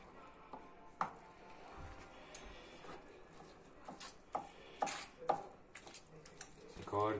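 A knife cuts cooked lampredotto into small pieces on a board, giving faint, scattered chopping taps and a few clinks in a quiet kitchen, with soft talk in the background.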